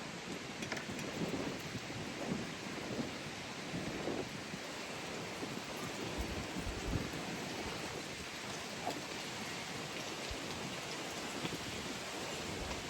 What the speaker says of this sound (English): That rain big as crap.